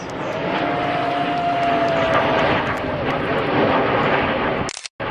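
Red Arrows aerobatic jets pass overhead in a display, giving a loud, steady engine roar that fills the whole stretch with a faint whine sliding through it, then cuts off abruptly near the end.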